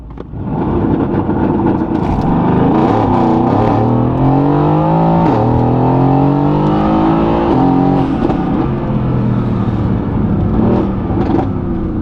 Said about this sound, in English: the car was cutting off a lot of power